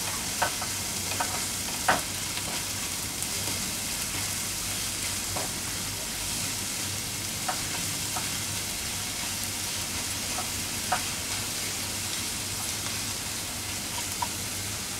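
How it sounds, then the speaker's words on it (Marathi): Chopped onions fry steadily in a pan, giving a constant sizzle throughout with occasional light scrapes and clicks of stirring. "हा कांदा व्यवस्थित आपल्याला परतून घ्यायचा"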